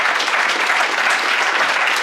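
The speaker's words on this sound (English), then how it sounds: "we'll give you another round of applause just to embarrass you" Dense, steady applause from an audience at a university cleantech prize pitch competition, loud and continuous throughout with no break.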